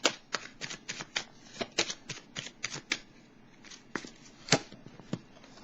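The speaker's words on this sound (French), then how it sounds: "Je vais piger une autre carte." Tarot cards being shuffled and drawn, a quick run of sharp riffling flicks and soft slaps in an irregular rhythm, close and fairly quiet, with no talking.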